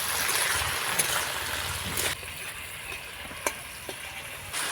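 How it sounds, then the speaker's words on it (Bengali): Chopped tomato frying lightly in a pan gives a steady, soft sizzle that runs throughout, close but quiet, with a few faint clicks of a utensil. "টমাটোটা হালকা আমি ভেজে নেবো"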